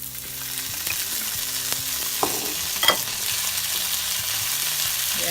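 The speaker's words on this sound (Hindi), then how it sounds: "हल्का सा सौटे हो गया" Red chili sauce mixture sautéing in a pan with salt, a soft continuous sizzle with a few utensil scrapes and clinks, fairly quiet, no talk.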